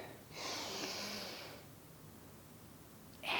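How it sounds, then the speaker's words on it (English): Breath drawn in during a full-body mobility exercise, one long audible inhale lasting about a second, close and soft, followed by quiet and the start of another breath. "So breathe in and out."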